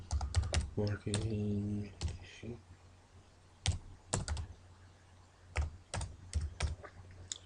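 Keys clatter on a computer keyboard in short quick bursts of typing with pauses between, close and fairly quiet, while someone speaks briefly at the start.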